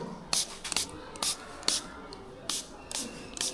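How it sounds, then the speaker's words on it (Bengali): Polish is sprayed onto a freshly washed motorbike in short, sharp hissing bursts, about eight spaced across the stretch, close to the microphone with a quiet background and no clear talk. "এই দেখুন শুধু মুছতেছি স্প্রে করতেছি আর মুছতেছি"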